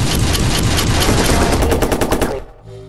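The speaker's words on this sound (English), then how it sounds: "Help! He's firing a gun!" Rapid automatic gunfire in the video game Watch Dogs, a loud close burst of rattling shots that stops abruptly near the end, followed by quieter game sounds.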